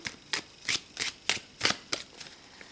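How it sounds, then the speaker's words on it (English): A deck of tarot cards is shuffled in quick riffling bursts, about nine crisp papery flurries in a steady rhythm, close and fairly quiet. "So though I can't hold the whole deck in one hand, it does shuffle quite nicely."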